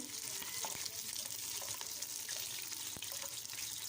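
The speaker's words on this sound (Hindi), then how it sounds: "तो अब इसके अंदर मैं प्याज शामिल कर दूँगी।" Finely sliced onions, about four, sizzle in hot oil in a pot for a degh-style chicken korma, a steady crackling hiss with occasional stirring clatter close by and no one talking.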